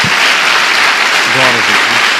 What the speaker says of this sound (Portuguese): Então dê uma salva de palmas a Jesus.